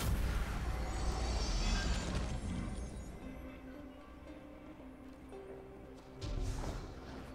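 Exploding dog enemies go off in the video game Destiny 2, giving a loud crashing burst with a low rumbling boom that fades over a few seconds, and a second thump follows near the end.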